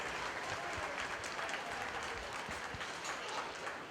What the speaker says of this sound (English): Let's give this class of exhibitors a nice round of applause,